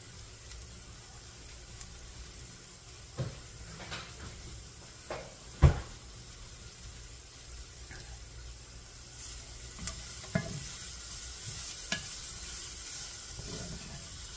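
Shredded carrots sizzling steadily in a hot pan, a soft continuous hiss broken by scattered clicks and knocks of stirring, no talking.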